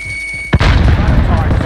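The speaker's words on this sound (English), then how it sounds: "Throwing grenade." A grenade explodes in the Call of Duty: Warzone video game, a single sharp loud blast cutting off a high alarm tone, followed by a rumbling, crackling tail.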